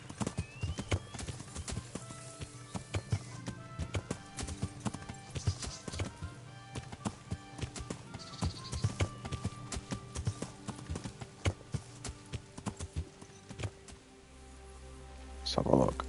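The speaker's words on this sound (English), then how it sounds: "God damn it, horse!" Hooves of a horse in the game Kingdom Come: Deliverance beat out a continuous clip-clop rhythm, moderately loud, with someone talking over them throughout.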